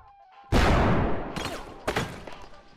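A flashbang grenade detonates in the realistic shooter game Bodycam, a sudden loud blast with a long ringing decay, followed by two more sharp bangs.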